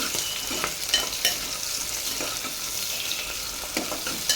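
Sliced onions sautéing in hot oil for chickpea biryani give off a steady, bright sizzle, broken by light spatula scrapes and stirring clicks at close range.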